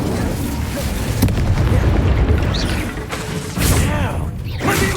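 Booming spell blasts and crackling bursts from Bombarda and Incendio in Hogwarts Legacy erupt in quick succession during a battle, loud and close, with game sound effects layered throughout.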